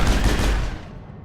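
A short burst of rapid gunfire in a PC shooter game, loud and close, cutting off and fading out within about a second.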